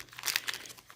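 A plastic zipper-loop gift bag with a snowman pattern crinkles in quick, bright, crackly bursts up close for about a second.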